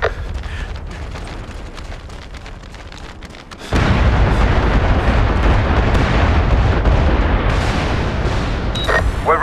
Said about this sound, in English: Enemy shells inbound!